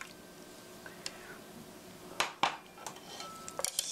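Beaten eggs and cold water stirred together in a bowl for steamed egg custard, giving a few scattered light clinks and taps against the dish over a quiet background, with no talking.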